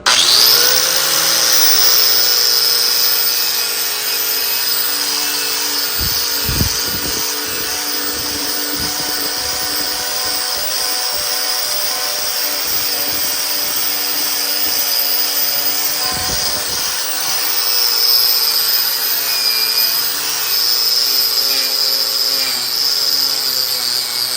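A cheap pressure-washer sandblaster attachment blasts grit against a rusty truck frame, giving a loud, steady hiss and roar that runs continuously with a few brief thumps and clatters along the way.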